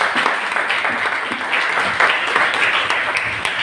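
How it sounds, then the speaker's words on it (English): A room full of people gives a sustained round of applause for a team at a storytelling event, dense, even clapping at close range that holds steady from start to finish. "Let's give a round of applause to our team."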